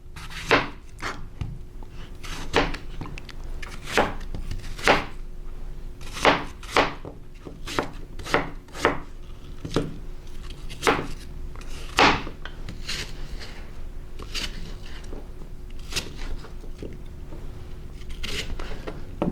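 Organic Opal apple sliced on a wooden cutting board, a long run of crisp knife chops landing in quick irregular succession, close and fairly loud, with no talking.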